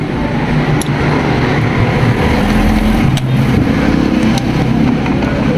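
A motorcycle engine with a newly replaced motor idles and runs steadily throughout, a continuous low mechanical hum that stays close with no clear revving.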